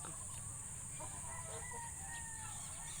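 A rooster crows against steady farmyard background noise, with clucking fowl nearby.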